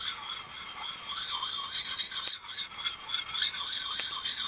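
A steady rasping scrape repeats in short strokes, metal drawn across a sharpening surface at close range, fairly quiet and rhythmic.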